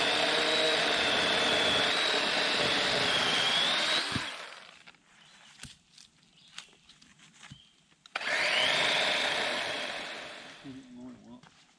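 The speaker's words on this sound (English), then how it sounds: "the DeWalt 20 volt like 12 inch chainsaw" A DeWalt 20-volt cordless chainsaw with a 12-inch bar buzzes loudly and steadily for about four seconds, falls silent with scattered handling noises, then revs up again for a few seconds, outdoors in a national forest.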